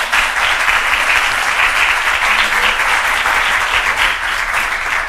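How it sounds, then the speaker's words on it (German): Loud, dense audience applause welcoming panelists to the stage before a lecture, a steady close roar of many hands clapping without pause. "gerne Applaus."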